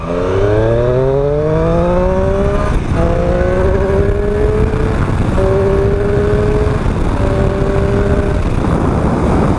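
Triumph Street Triple R motorcycle, a 2018 model, accelerating hard in second gear: the loud engine note climbs steadily in pitch through several rising revs with brief gear-change dips, continuous and close with no talking.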